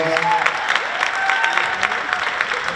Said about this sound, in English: Can we give a round of applause for Coach Tony Martin and these girls?